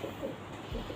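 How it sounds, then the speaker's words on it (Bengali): A homer pigeon, an old-line white bird, gives short low coos, close and fairly loud, over a steady hum with no speech. "হোমার পায়রা।"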